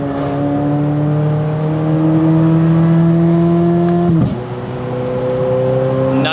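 Corvette C8 Z06 with a full titanium exhaust revving hard, its engine note climbing steadily, then dropping sharply at a shift with a brief pop before pulling again, loud and close.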